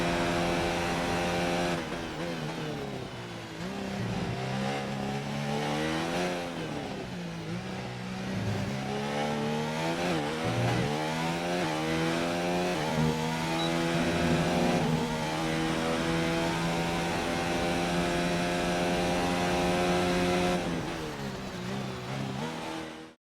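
An F1 2019 race car engine in the British GP qualifying at Silverstone screams steadily through gear changes, with repeated rising pitch sweeps and brief drops, loud and sustained throughout.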